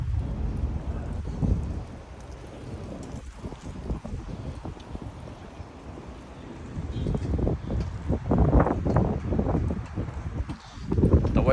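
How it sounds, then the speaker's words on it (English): Gusty wind roaring against the microphone in uneven bursts, louder toward the end, with a voice faintly underneath, outdoors in Dubai Hills, Dubai. "The weather is a little windy,"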